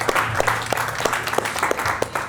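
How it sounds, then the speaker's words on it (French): A fitness class claps at the end of a Sweat and Snack workout, a modest group of hands beating in a fairly regular rhythm, close and clear, over a faint background hum. "Vous pouvez vous applaudir."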